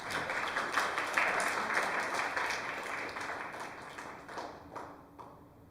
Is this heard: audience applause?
yes